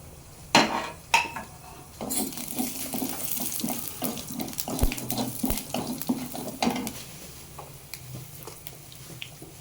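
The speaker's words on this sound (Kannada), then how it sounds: "ಆ ಎಲ್ಲ ಇಂಗ್ರೀಡಿಯೆಂಟ್ಸ್ನ ಫ್ರೈ ಮಾಡ್ಕೊಳ್ತೇನೆ ಮೊದಲನೇದಾಗಿ ಸ್ವಲ್ಪ ಕೊತ್ತಂಬರಿ ಬೀಜ ಹಾಕ್ಕೊಳ್ತಾ ಇದ್ದೀನಿ" Coriander seeds sizzle and crackle in hot oil in a pan while a Kannada home cook prepares a recipe, with a few sharp clatters near the start and then a steady, close, busy frying hiss.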